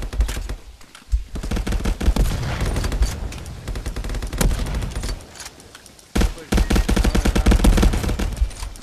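Bursts of gunfire in the VR shooter game Contractors, with dense rapid volleys filling most of the stretch, a brief lull near the start and another pause just after six seconds before heavy firing resumes.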